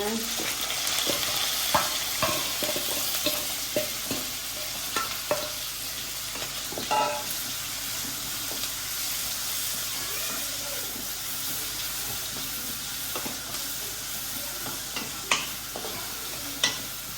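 Chopped onions and green and dried chillies sauté in a pan, making a continuous close sizzle broken by repeated sharp scrapes and taps from stirring, with no one talking.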